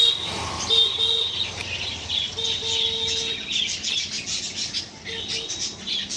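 Small birds, including cockatiels, Java sparrows and budgerigars, with pigeons, chirp and tweet continuously over a steady background hum, with a few repeated tonal calls scattered throughout.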